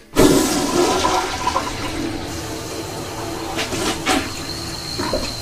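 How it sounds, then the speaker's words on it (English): A household toilet flushing with a sharp onset and loud rush of water that gradually settles into a lower gurgling drain, a couple of small clunks near the end, no talking. "We're going to flush the toilet again."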